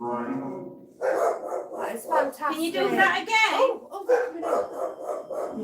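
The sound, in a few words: dogs barking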